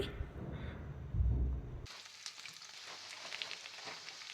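Onions hit hot oil in a pan, about one tablespoon, and set off a sudden bright sizzle that keeps crackling steadily after a brief muffled rustle and clunk at the start.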